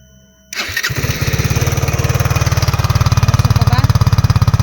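A motorcycle engine, smoking after a crash, cranks and catches, then settles into a steady, loud, rapidly pulsing idle close by.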